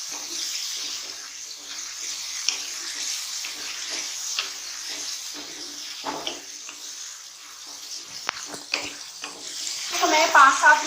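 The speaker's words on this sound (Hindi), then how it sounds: "अच्छी तरीके से इसकी मैं भुनाई करूंगी।" A pan of pea and potato curry (matar aloo salan) sautéing in oil, giving a soft continuous sizzle with occasional stirring scrapes and clinks, steady at moderate level throughout.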